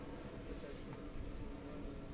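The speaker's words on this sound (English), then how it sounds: "We got a train going by in the background." A freight or passenger train rumbles by in the distance behind an outdoor college baseball game, a low continuous drone that stays faint and steady throughout.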